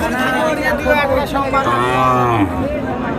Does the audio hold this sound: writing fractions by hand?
no